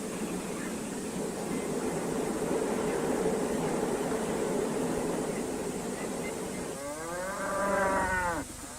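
Corn-fattened cattle on a farm. After a long stretch of steady background noise, one loud, drawn-out moo sounds close by near the end.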